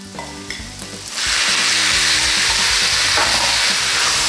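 Pork sautés over high heat in a pan, starting with a few clanks and scrapes of stirring, then breaking into a loud, sustained sizzle that fills the rest of the moment.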